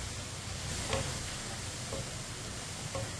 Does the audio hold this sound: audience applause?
no